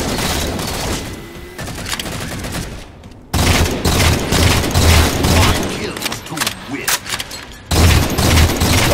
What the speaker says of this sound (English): Wow, they all like to throw grenades.